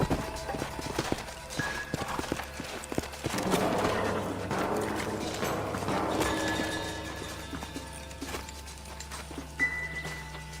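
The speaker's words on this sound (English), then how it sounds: "Let's hold up a minute and find a spot for our horses" Horses in the Red Dead Redemption video game clip-clop in steady hoofbeats with an occasional snort or whinny, moderately close under game ambience and faint voices.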